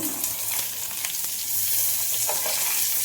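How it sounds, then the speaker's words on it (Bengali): Chopped papaya tossed into a hot frying pan sizzles steadily and loudly, with scattered stirring scrapes and pops over continuous frying hiss. "তো আমি এর মধ্যে পেঁপে দিয়ে দিচ্ছি"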